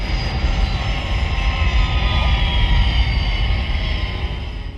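A Thunderbirds aircraft comes in to land at London Airport, a loud, steady jet roar with broad rushing noise and a high whine holding evenly throughout, with no voices.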